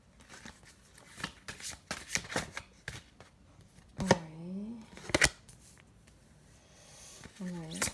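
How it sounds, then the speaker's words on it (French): Tarot cards shuffled and handled during a general 2021 reading, with crisp, repeated riffling and slapping card sounds in quick bursts nearby, then occasional drops, while someone talks over and between them. "Oups, une carte est tombée."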